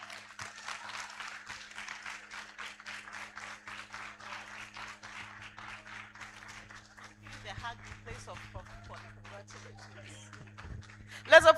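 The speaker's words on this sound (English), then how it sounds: "Let's applaud her." Conference audience applause comes as a steady patter of many hands clapping, soft and somewhat distant, with a few louder knocks at the very end.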